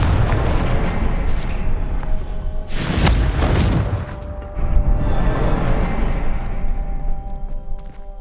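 Confringo fire spell exploding in the video game Hogwarts Legacy, a single loud booming blast that swells and fades amid a dense, rumbling game soundscape.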